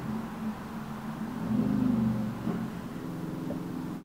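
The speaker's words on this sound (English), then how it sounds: "There's so much traffic today" Road traffic passing outside is heard faintly from indoors as a low, muffled rumble that swells midway and then eases off.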